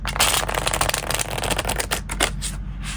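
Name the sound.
shuffling a deck of cards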